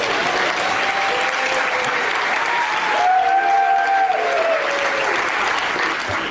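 Steady, dense applause from a theatre audience at a comedy magic act, sustained at an even level throughout, with faint whistle-like tones or voices ringing over the clapping.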